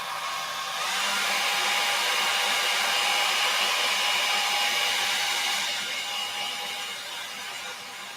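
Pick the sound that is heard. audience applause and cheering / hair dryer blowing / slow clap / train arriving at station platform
hair dryer blowing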